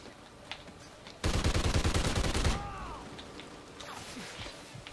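Automatic gunfire from the Ripper weapon in Call of Duty Ghosts, a single loud sustained burst of rapid shots lasting about a second, followed by quieter game ambience.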